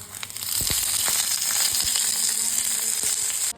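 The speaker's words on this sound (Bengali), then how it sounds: "হালকা তেল দিয়েছি, এরপর দেখো কলা পাতাগুলোকে সেঁকে নিতে হবে।" Banana leaves toast in a pan with a little oil for bhetki paturi, giving a steady, close sizzle with scattered crackles and small clicks throughout, and no talking.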